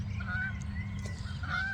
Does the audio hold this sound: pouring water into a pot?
no